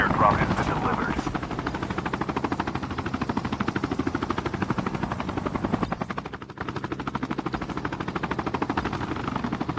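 Helicopter rotor chop from a chopper in a Call of Duty private match battle, a steady rapid beating that runs loud and continuous throughout, with brief bursts that may be gunfire mixed in.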